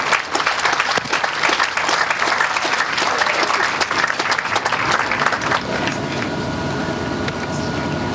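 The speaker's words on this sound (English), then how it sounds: "Please give him a round of applause" Sustained audience applause at a Relay for Life charity event honoring a speaker who stayed at a Hope Lodge, dense and steady throughout, easing slightly toward the end.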